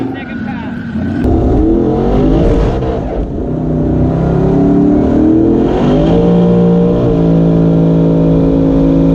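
Twin-turbo Ford Mustang on a drag strip making a hard acceleration run, a loud, close engine roar climbing in pitch through several gear changes.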